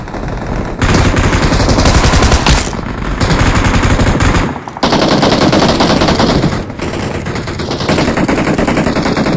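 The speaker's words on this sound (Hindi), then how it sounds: "एक गन" Loud, sustained automatic gunfire from a gun in the mobile battle royale game BGMI, rattling in long dense bursts with a few brief pauses between them.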